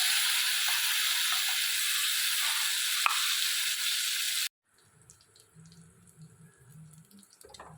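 Ground pirandai paste frying in oil with mustard seeds, a loud steady hiss of sizzling for several seconds before cutting off abruptly, followed by quieter faint clatter and soft residual crackle.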